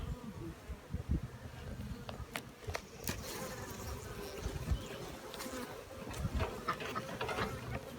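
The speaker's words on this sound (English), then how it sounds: "Our bees are bringing some nectar in." Honeybees buzz steadily around an open hive during an inspection, a faint continuous drone with individual bees zipping close past now and then.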